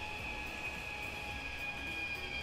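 A train in Train Simulator 2019 brakes on the Olomouc to Zábřeh na Moravě line, giving a steady, quiet rolling rumble with a sustained high metallic whine from the brakes and wheels.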